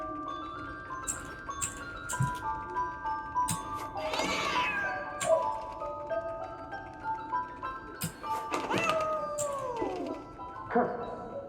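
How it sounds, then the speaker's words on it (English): Cat in the video game 11-11 Memories Retold, meowing repeatedly in long, drawn-out, wavering cries, some rising into howl-like wails, close and fairly loud over a quiet background with scattered clicks and tones. "Why is that cat meowing?"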